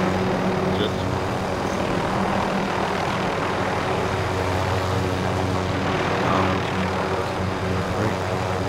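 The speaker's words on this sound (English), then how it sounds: "And there's another chopper over there" Helicopter flying in Call of Duty Warzone, a loud steady rotor and engine drone with a low pulsing throb throughout, while players talk over it.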